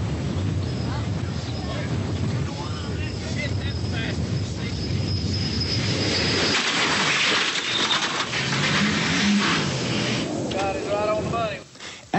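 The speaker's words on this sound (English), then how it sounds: "the vehicle has come to a complete stop, despite the driver continuing to accelerate through the barrier" A vehicle accelerates into a dragnet barrier on an unpaved surface during a crash test, a sustained engine roar mixed with wind buffeting, continuing under the impact and fading sharply at the close.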